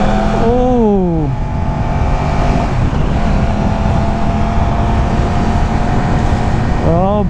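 A Yamaha YZF-R1M sport motorcycle accelerating back up to speed on a Singapore road, loud and close, with rising engine revs through gear changes over heavy wind rush.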